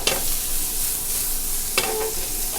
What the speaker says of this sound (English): Just continue to work the onions, moving them around a little bit until we draw out a nice golden color.